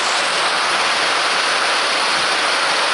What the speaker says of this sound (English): He just don't realize it's raining right now.